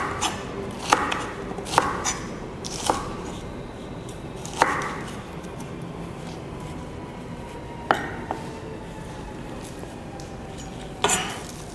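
A knife chops fruit flesh into chunks on a cutting board, giving about eight separate sharp thuds spaced unevenly over a quiet background, close and clear.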